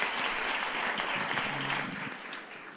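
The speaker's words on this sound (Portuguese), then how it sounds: "Podemos aplaudir a Jesus?" Church congregation applauding at a Sunday celebration service, a dense steady wash of clapping from many hands that carries through the whole stretch and thins slightly toward the end.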